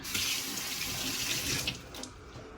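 Hands being washed under a running kitchen tap after cutting raw chicken, a steady close rush of water splashing into the sink throughout, no voices.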